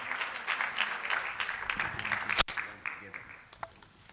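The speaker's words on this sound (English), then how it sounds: "Makofi, a better round of applause," An audience at an Africa-Asia youth forum applauds, a steady wash of moderate clapping that fades slightly toward the end, with voices talking over it and a brief sharp click in the middle.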